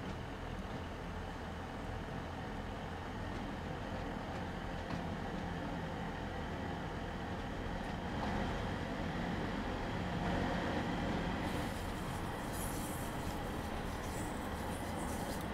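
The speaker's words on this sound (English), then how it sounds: "Over the window so we can hear the engine." Train engine in the video game Train Sim World 2, on the West Cornwall local line near Carbis Bay with the window open: a steady, moderately faint rumble and whir that continues without a break, with no one speaking.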